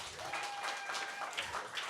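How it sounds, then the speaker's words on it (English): Audience applause at a cultural showcase event, a moderate, steady patter of clapping with faint voices and a brief tonal whistle or feedback line running underneath. "Can we get another round of applause for Manny?"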